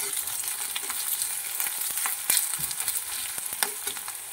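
Chopped onion and garlic fry in hot oil for a Bengali mustard pabda fish dish, giving a steady close sizzle broken by sharp scraping clicks as a spoon stirs the pan.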